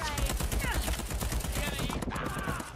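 Enemy gunfire in the video game Deathloop, a fast continuous volley of loud close shots throughout, with brief speech-like sounds mixed in.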